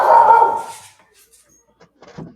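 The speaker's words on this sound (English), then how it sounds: "You got a dog? Yeah, that's my dog." A dog gives one loud, close bark, then the room falls mostly quiet apart from faint small sounds.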